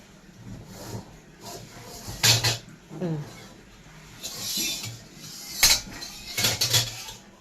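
Rice stir-fried in a pan with sharp metallic clanks and scrapes of a utensil against the pan in irregular bursts, while voices talk around the cooking.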